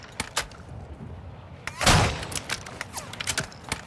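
Gunfire rattles through a Call of Duty DMZ match, with scattered sharp shots and one heavier booming blast in the middle, set against game ambience and faint voice chatter.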